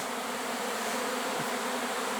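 A steady, dense buzzing of many honeybees around hive boxes, loud and continuous, like a swarm hovering close by.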